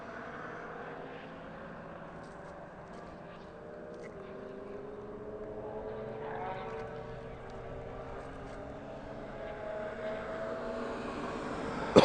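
A DHL cargo aircraft on final approach to East Midlands Airport drones steadily at a distance, its engine hum slowly building, with faint background noise around it.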